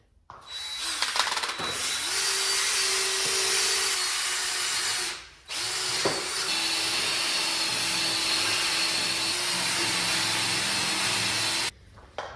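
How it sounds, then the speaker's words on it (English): A power drill scrubs stubborn grass buildup off a Simplicity mower deck, roughing up the paint with a loud, steady whirring grind that runs about twelve seconds, with a brief pause near the middle before it cuts off. "on my drill here, remove kind of the grass buildup, the stubborn grass, and then rough up the paint a little bit"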